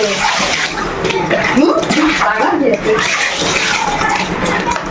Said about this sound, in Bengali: ছোট গামলায় স্নান করছো মা?